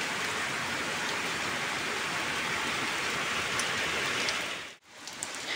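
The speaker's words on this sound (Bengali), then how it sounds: "ঝমঝম করে বাইরে বৃষ্টি এসেছিল" Heavy rain pouring outside, a dense, steady hiss of drops on surfaces that fills the scene at close range, briefly cutting out near the end before resuming.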